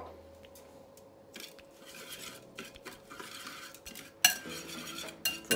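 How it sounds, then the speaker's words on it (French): A spoon stirs a spice mix of peanut paste and water for homemade kilishi beef jerky, giving soft wet squishing and scraping, with sharper clinks of utensil against the bowl toward the end. "je vais rajouter un peu d'eau et mélanger le tout"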